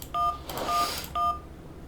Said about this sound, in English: Right, I've got to phone Mum.